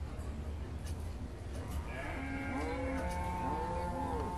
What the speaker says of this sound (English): Boy, those cattle are not happy,